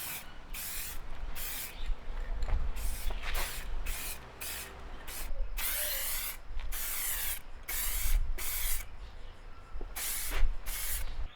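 A spray can lays a light dust coat onto a car headlight, with a series of short hissing bursts, some longer than others, spaced irregularly and close by.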